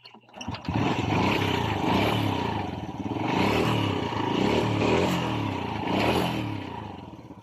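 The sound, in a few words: Honda Wave 100 motorcycle engine, very loud noise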